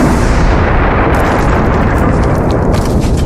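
A deafening explosion with tunnels caving in: a loud, continuous roaring rumble that fills the whole clip, dense and close, with no break in its heavy low thunder.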